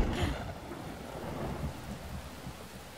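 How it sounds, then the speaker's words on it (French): Heavy rain pours steadily as a dense hiss, with a low rumble of thunder underneath at the start, no voices present. "J'ai peur quand il pleut comme ça."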